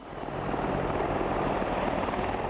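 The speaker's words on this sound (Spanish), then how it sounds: "Quizás el destructor de tanques más temible fuese el helicóptero Apache." An Apache attack helicopter from the Desert Storm era swells up, then holds a steady, loud rotor-and-turbine drone with no voices.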